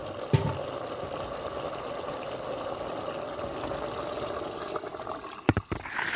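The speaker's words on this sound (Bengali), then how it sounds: "এখন এই পর্যায়ে আমি এটার মধ্যে অ্যাড করে দিব গরম ঝোল।" Hot broth poured into a simmering fish curry with vegetable stalks in a pan, a steady close wash of liquid and bubbling with a couple of brief clatters near the end.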